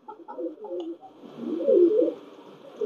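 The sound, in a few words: Pakistani Teddy pigeon cooing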